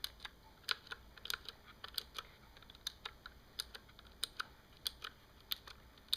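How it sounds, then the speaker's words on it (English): Cherry MX Green clicky mechanical keyboard switches are pressed one at a time, each giving a crisp, sharp click at an uneven typing pace, fairly quiet and close against a faint background hiss. "clicks, as it should, because it's a clicky keyboard"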